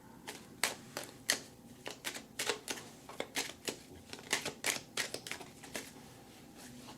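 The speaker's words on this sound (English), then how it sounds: "So let's shuffle, shuffle, shuffle." Rapid papery riffling and snapping of tarot cards being shuffled, a quick irregular series of soft slaps, close and fairly quiet.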